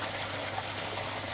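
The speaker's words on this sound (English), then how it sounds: "I've got a spare pump that I use as a backup pump. Just turn that on" A spare backup pump runs in a garden pond, pushing extra oxygen into the water with a steady gushing, splashing wash of moving water, close and continuous with no talk.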